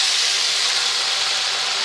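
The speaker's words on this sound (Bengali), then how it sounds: "আমি দিয়ে দিচ্ছি জল" Water poured into a pan of hot frying spice masala for a fish curry gives a loud, steady, close hiss of sizzling steam, with no voices.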